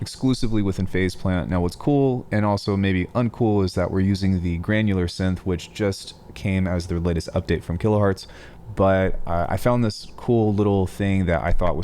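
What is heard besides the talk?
No everyday noise stands out behind the speech.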